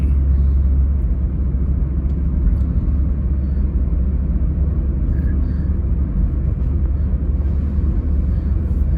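Toyota Yaris with a swapped-in 1.2 1NZ engine and manual gearbox accelerates in fourth gear, a loud, steady low engine rumble and road drone heard from inside the car throughout.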